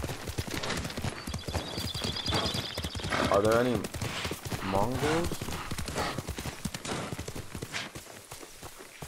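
Horse hooves clip-clopping in a steady gallop with heavy breathing from a mount in the video game Ghost of Tsushima, set under near continuous talk from a player, with a few sharp game effects mixed in.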